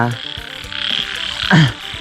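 Frogs and toads croak after rain, short repeated throaty calls close by, with one louder, deeper croak standing out near the end over a faint insect background.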